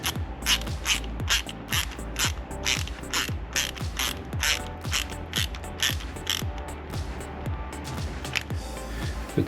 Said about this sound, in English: You really do have to find the right screwdriver for these.